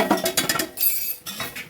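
A utensil stirs onion masala in a pan, heard as quick, close clinks and scrapes of metal on metal in short bursts over less than two seconds.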